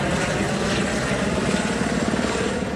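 A police helicopter drones loudly and steadily overhead, its rotor chop pulsing throughout.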